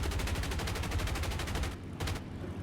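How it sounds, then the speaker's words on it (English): Fast, continuous bursts of .50 caliber machine-gun fire in the War Thunder combat game, firing from an A-26B-50 Invader aircraft, loud and rapid with a brief break before a short final burst. "So this new sound of the 50 cals, man, I don't know."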